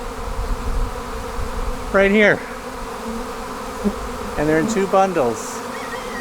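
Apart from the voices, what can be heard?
honey bee swarm buzzing in apiary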